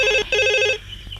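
A telephone rings in a Bhojpuri police drama scene, with two loud, evenly pulsed ring bursts separated by a short gap, then quiet room tone afterward.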